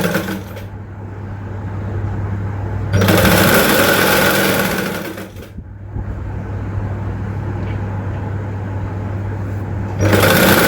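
Sewing machine running a straight seam in fabric, a loud close motor whir that runs steadily, pauses briefly twice, and starts up again.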